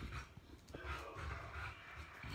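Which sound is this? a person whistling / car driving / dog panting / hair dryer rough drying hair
dog panting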